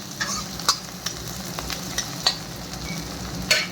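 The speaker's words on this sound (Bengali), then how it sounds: "পেঁয়াজ আর শুকনো লঙ্কাটা একটু ভেজে নিই লাল লাল করে" Onions and dried chillies frying in a pan, a steady close sizzle punctuated by several sharp scrapes and clicks of stirring at irregular intervals, with no talk.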